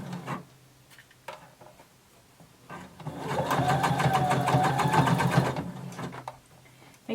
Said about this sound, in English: we're going to sew using 5/8 of an inch seam allowance